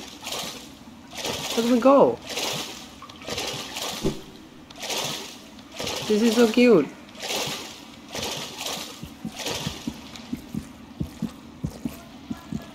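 Swimming through a calm blue lake in the video game Hollow Knight brings rhythmic watery splashes and sloshing strokes, moderately close, mixed with soft game ambience while a player talks briefly over it.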